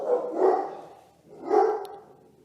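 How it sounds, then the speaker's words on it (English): A dog barks twice, close and fairly loud, with a short pause between the two barks. "Sorry about the dog."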